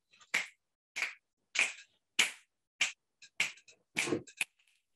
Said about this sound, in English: I want everyone to snap your fingers just on that.